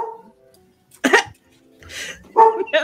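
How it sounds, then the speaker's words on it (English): A dog barks a few times nearby, short sharp bursts spaced irregularly against a quiet background. "Yeah, there's a dog."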